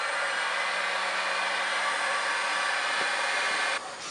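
A heat gun blows steadily and loudly on 3-to-1 heat shrink tubing over a Foxbody cabin wiring harness, a constant broadband whoosh that drops off sharply near the end.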